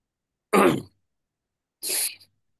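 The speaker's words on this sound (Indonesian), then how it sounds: "aduh, maaf agak batuk ya" Two separate coughs or throat clears, a sharp one and then a slightly softer one about a second later, stand alone against silence.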